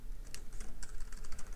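Computer keyboard typing while writing frontend code for a blockchain to-do list web app: rapid, steady keystrokes close by over a low background hum.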